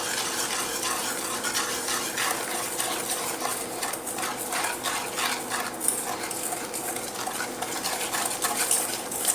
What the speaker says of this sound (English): And we're going to mix this in.